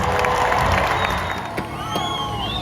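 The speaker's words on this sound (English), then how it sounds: "Round of applause!" A theme-park show crowd at Universal Hollywood applauds and cheers, with children shouting and whoops mixed into a loud, continuous wash of noise.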